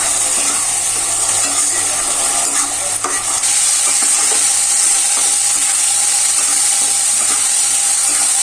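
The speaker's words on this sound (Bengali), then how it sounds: "ডাউল দিয়ে সুন্দরভাবে মশলার সাথে কষিয়ে নিতে হবে" Spice paste and soaked moong dal are stirred and fried in a pan for fish-head muri ghonto, giving a loud, continuous sizzle with scraping stir sounds close up and no voices.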